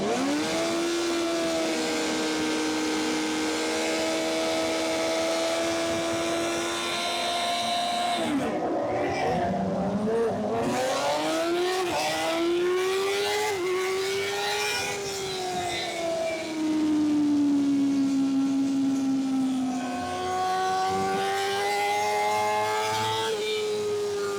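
Racing motorcycles at a CVMA race scream at high revs, the onboard engine wailing steadily and rising and falling through gear changes, loud and continuous throughout.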